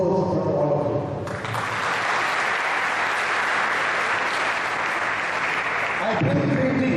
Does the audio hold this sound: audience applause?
yes